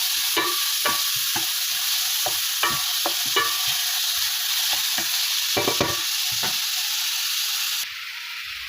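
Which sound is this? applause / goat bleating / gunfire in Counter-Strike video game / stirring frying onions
stirring frying onions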